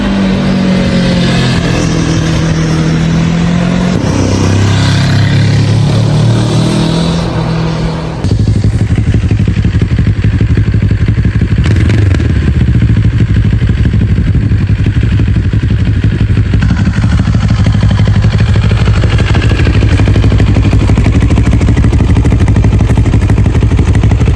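A Moto Morini X-Cape 700 adventure motorcycle engine runs loudly up close, revving and shifting, then settling into a steady rumble with wind buffeting.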